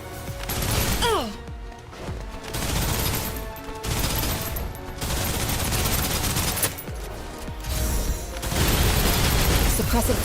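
Suppressive gunfire in the game Snowbreak: sustained automatic fire rolling in loud, dense bursts with short breaks, punctuated by booms and mechanical clatter, with some voices faintly underneath.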